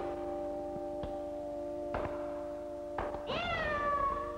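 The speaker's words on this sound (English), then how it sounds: "I stepped on my cat's tail." A cat yowls after its tail is stepped on, a sharp rising-then-falling wail near the end, following a few brief knocks over a steady background hum.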